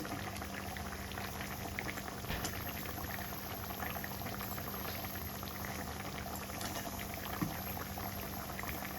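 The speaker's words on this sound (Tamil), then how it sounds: "நல்லா கொதிக்குது." Steady bubbling of thick egg gravy simmering in a pot, a constant close-up burble with occasional small pops.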